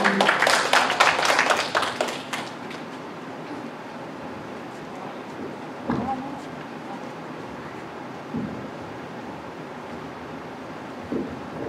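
Congregation at a live Sunday worship service clapping in a short dense burst at the start, then fading into quiet room noise with a few faint knocks.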